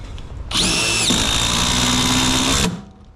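A cordless power drill driving a small screw into a shop wall fixture, one steady loud whir lasting about two seconds with a slight pitch drop partway through, close and alone.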